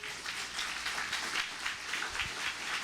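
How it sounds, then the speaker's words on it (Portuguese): Church congregation clapping steadily during a worship service, a dense, even wash of many hands sustained throughout, moderately loud and not far off. "Aplauda bem forte ao Senhor."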